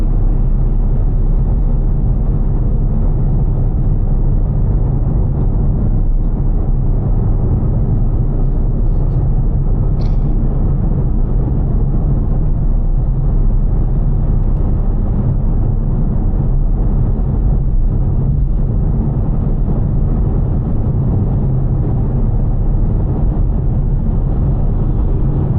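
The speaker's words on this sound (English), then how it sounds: "Like you know instantly it's a V8 engine." A Mercedes C63 AMG V8 drives at night on the road to Palm Springs, giving off a steady, loud low rumble that holds without a break from start to finish, with no voices.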